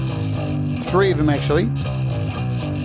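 Distorted bass from the Laney Digbeth bass amp plugin by Aurora DSP on iOS, a sustained gritty low tone running steadily underneath someone talking.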